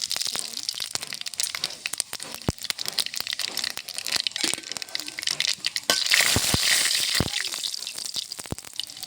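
Dry red chillies and panch phoron hitting hot mustard oil in a kadai: a loud, dense crackle and sizzle with constant popping and spitting, close up and steady throughout.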